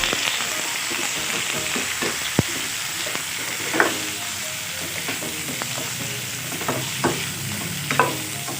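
Pork being sautéed for humba in a pan, with a constant close sizzle and occasional scraping stirs and light utensil knocks against the pan.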